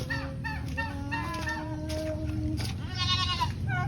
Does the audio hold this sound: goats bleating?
yes